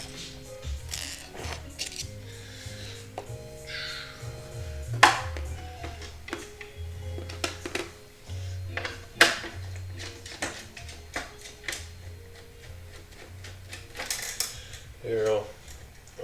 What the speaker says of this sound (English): Let's take these screws out of here.